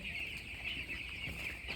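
Broiler chickens cluck and murmur inside a poultry shed, many birds close together in a dense, continuous chorus over a steady high-pitched hum.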